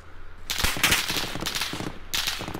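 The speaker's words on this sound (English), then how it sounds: "Oh, I'm getting shot at." Rapid automatic gunfire in the Call of Duty Warzone video game, dense overlapping shots in two bursts with a short lull between, loud and close.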